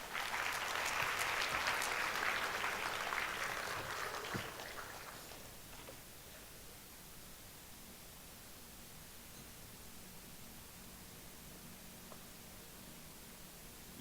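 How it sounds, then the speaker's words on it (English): Audience applause at a Malaysian media conference after a speaker ends a presentation, a dense, loud wash of clapping that fades over about five seconds and leaves a quiet room. "Ladies and gentlemen, another round of applause for Dr."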